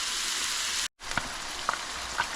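Ground beef browning in a pan gives a steady, dense sizzle close by, broken by a brief silent gap, then continuing with a few small pops and stirring clicks.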